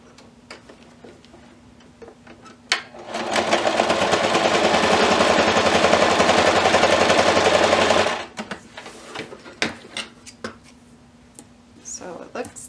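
A domestic sewing machine runs in one steady burst of about five seconds, stitching bias tape down on a fabric curling iron holder, with rapid close mechanical ticking and quieter handling clicks before and after.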